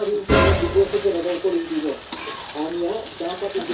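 Ground meat being stirred in a hot pan for a sizzling dish, with steady frying sizzle and scraping stir strokes, loud and close, with a brief burst of hiss near the start.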